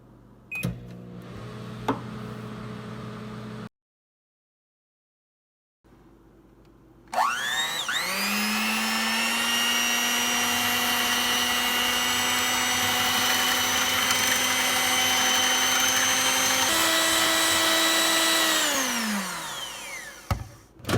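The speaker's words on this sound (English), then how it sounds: "the cake batter in the microwave for 90 seconds to start" A microwave oven hums steadily for several seconds while cooking cake batter in a mug, after a few clicks and a brief silence, its motor tone winding down at the end.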